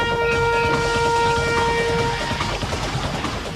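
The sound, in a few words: roller coaster train launching on its track at night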